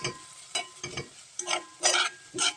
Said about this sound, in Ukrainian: Так, смажимо. Ще трошки смажимо і будемо додати пюре.